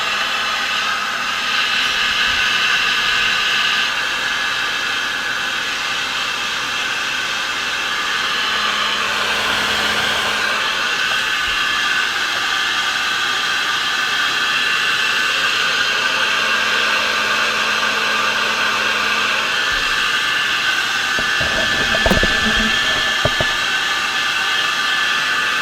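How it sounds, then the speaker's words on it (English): A heat gun blasts hot air onto a part of a Dual 1228 turntable, giving a steady, loud, unbroken roar of rushing air for the whole stretch. The airflow never pauses. "I'm gonna give it the heat blast"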